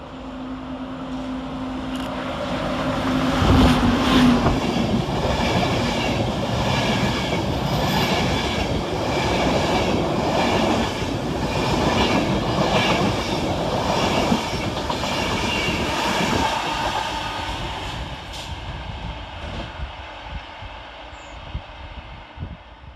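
Class 91 electric locomotive 91127 hauling an LNER express from London King's Cross to Leeds passes through Bowes Park station, a loud sustained roar with steady clickety-clack of wheels over rail joints and a brief squeal, fading slightly at the end.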